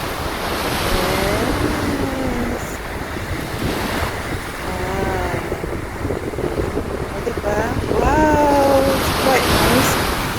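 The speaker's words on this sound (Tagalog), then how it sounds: "ang laki na naman ng waves coming" Large ocean waves break along Scotland's north coast, a steady loud roar of surf with gusty wind across the microphone, while voices talk excitedly over it throughout.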